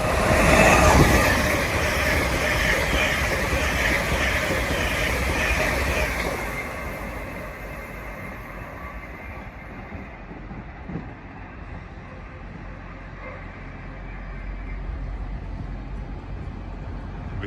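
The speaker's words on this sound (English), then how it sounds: "And we have a fast LNER on the down fast to" A fast LNER train passing through Doncaster on the line, a loud steady rushing roar with rail rumble that fades after several seconds into a lower rolling drone from the distance.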